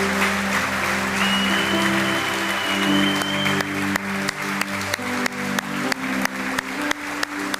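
Congregation at a Spanish-language Christian church service breaks into sustained applause over steady music tones, the dense clapping thinning toward the end into louder, evenly spaced claps.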